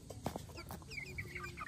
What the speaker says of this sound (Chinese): 这些小鸡都聚在我的附近。